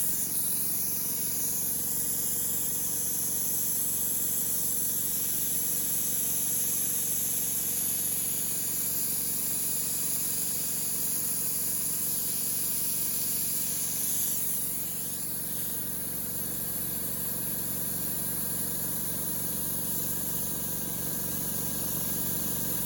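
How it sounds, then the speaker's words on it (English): An air compressor runs steadily with a continuous motor hum and a persistent high hiss of air, at moderate level and unchanging for the full stretch. "the compressor is dropping a little bit"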